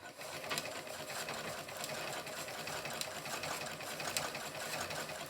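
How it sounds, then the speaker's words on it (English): A Singer 27 sewing machine winds a bobbin, a steady whirring mechanical hum with fine, rapid ticking and a few sharper clicks, close by and constant the whole time. "Let's wind a bobbin."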